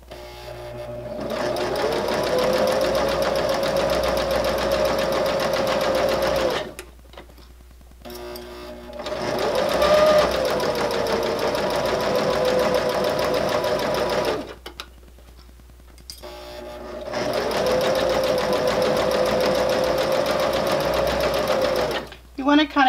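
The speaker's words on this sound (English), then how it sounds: "Once I'm started, I can just stitch all along the edge." A sewing machine runs steadily, stitching a narrow hem along a fabric edge for a grocery bag holder, in three long continuous bursts separated by short pauses, close and fairly loud.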